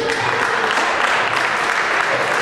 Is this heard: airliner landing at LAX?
no